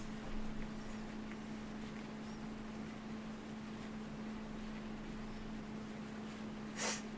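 A boat engine in the ARMA military game hums in a low, steady drone with some wind noise, fairly quiet and unbroken, with a brief rushing burst near the end.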